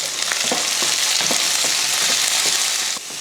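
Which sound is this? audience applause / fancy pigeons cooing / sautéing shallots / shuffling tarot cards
sautéing shallots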